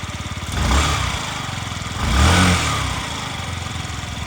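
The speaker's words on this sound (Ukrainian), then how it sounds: "Гарно працює двигун сам." Yamaha Jog SA55 fuel-injected scooter engine idles with a steady pulsing putter, close and loud, rising in two short revs before settling back to idle.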